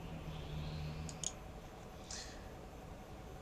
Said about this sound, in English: Double click here.